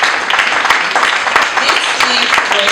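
Audience applause at a graduation ceremony in Nairobi, dense, steady clapping from a crowd filling the space as people come forward, with a voice speaking over it.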